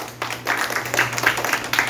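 A classroom audience of schoolchildren claps together for a couple of seconds, a close, dense patter of hand claps that swells after a brief quiet start.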